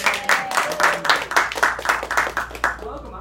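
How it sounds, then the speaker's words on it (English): A small group of audience members clap in a quick, lumpy rhythm after an introduction at a classroom-style gathering, with voices and a cheer mixed into the steady clapping before it fades out. "Let's give a round of applause."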